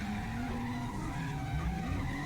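Several drift cars sliding in a close three-car tandem on a track, tires squealing continuously under loud, steady engine drone with no break in the noise.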